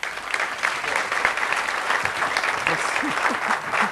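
A room full of people claps steadily to welcome a comedian, a dense, sustained round of applause with no voices over it.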